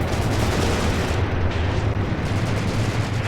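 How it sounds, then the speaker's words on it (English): Artillery fire in the WWII tactics video game Graviteam Tactics: Mius-Front, a steady deep rumble of distant barrage and gunfire, dense and continuous throughout with no clear single blasts. "Incoming artillery."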